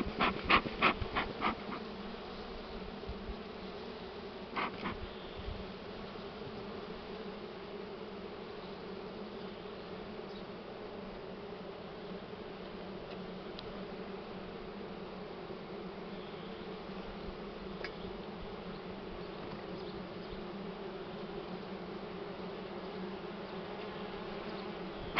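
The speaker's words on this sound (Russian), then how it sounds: "Загоняем пчел." Honey bees buzz continuously around an apiary during honey extraction, a dense droning hum at moderate distance lasting the whole stretch, with a few knocks and clatters early on.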